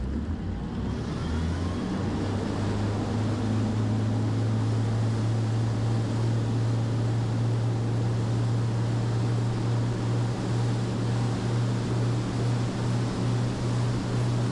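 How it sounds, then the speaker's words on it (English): A Volvo Penta KAMD42 marine diesel engine runs steadily on a test stand, a continuous loud drone with a strong low hum that shifts slightly in pitch as the supercharger engages and disengages, no speech. "When the supercharger engages during acceleration, when it disengages during deceleration, and when it reconnects again with changes in RPM."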